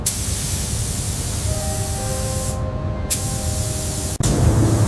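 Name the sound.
spray gun applying primer coat on Rolls-Royce Phantom II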